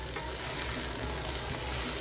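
Shrimp and kochur loti (taro stolons) frying in a pan, a steady dense sizzle, close and even throughout, with no talking.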